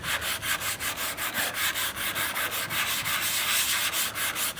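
Car body primer is being hand-sanded with 320-grit sandpaper in close, steady back-and-forth rubbing strokes at an even, quick rhythm.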